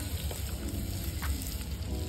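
Tomatoes sizzling in a hot frying pan, a continuous moderate hiss with light crackles over a low, steady hum.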